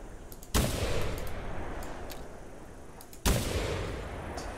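Two loud, booming blasts from a Maisto semi-auto shotgun in the hunting game theHunter Classic, spaced a few seconds apart, each followed by a long rolling echo that slowly fades.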